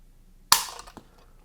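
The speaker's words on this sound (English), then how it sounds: "Let's clear the averages on the lineman trigger pull weight gauge. And let's see what our first pull is." A sharp, crisp click from a trigger pull on a Watchtower Firearms Apache double-stack 9mm 1911 fitted with a Lineman trigger pull gauge, followed by a fainter second click.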